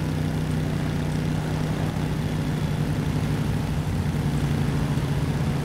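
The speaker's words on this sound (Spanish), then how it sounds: "una moto en una carretera lluviosa" Motorcycle engine in the video game Beyond Two Souls, ridden on a rainy road: a steady, low droning hum that holds an even pitch throughout, continuous and moderately loud with no speech over it.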